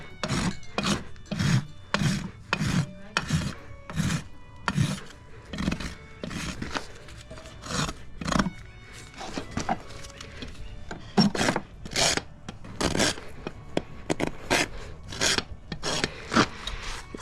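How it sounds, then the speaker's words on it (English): A rasp files a horse's hoof in rhythmic strokes, steady rasping scrapes repeating roughly every half second, close and clear, with a brief pause midway before the strokes resume. "I'm gonna do the rest with my rasp."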